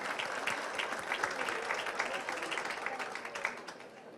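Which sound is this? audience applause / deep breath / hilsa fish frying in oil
audience applause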